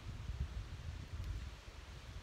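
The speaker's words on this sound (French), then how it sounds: "Il y a du vent, je pense que ça va s'entendre dans la vidéo." Outdoor wind gusting against a microphone, a steady low rumbling buffet with faint rustling, continuous and fairly quiet, with no talking.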